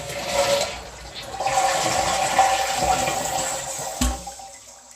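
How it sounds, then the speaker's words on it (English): A household toilet flushes after its tank has been filled by hand with poured water, a loud rushing swirl of water running steadily for about four seconds, then a brief gurgle and quiet tail. "flush a toilet without electricity is to take the tank off, pour water in the tank"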